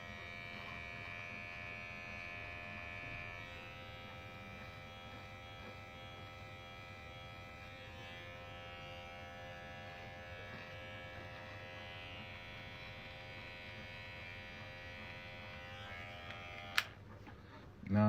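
An electric shaver trims body hair with a steady, close buzzing drone that holds evenly for about seventeen seconds before a brief click and a louder rustle at the end.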